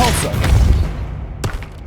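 Depulso force spell in the Hogwarts Legacy video game, a loud booming blast that rumbles and fades, then a second sharper impact hits about a second later.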